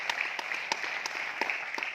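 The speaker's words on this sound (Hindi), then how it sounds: "ताली जोरदार वाली बजाइए, यही काम है।" An audience claps at a motivational company gathering, a steady patter of applause with a few sharper individual claps standing out at a moderate, somewhat distant level.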